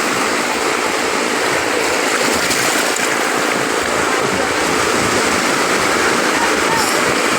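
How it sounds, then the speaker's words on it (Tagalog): Waves washing along the Manila Bay shore, a loud, steady broadband rush of surf with no breaks, close by and continuous throughout. "Medyo humina na po yung alon eh."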